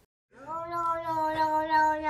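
A cat meows once, a clear, drawn-out rising and falling call that starts after a short silence and holds close and fairly loud.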